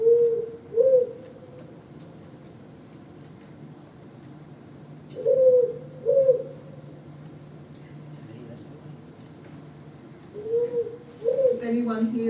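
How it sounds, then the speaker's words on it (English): A powerful owl's recorded call plays back as low, deep double hoots in spaced pairs, three sets over the stretch, played at moderate volume with faint room noise between them. "So I'll just play the powerful owl calling."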